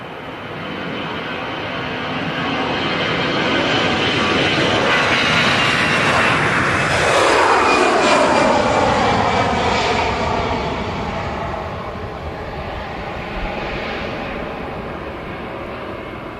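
A civil aircraft performing a touch and go roars steadily, its engine noise swelling to a loud peak as it passes close overhead, with a sweeping pitch shift before slowly fading.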